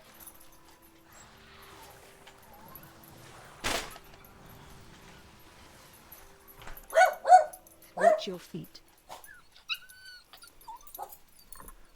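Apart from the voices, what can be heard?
dogs barking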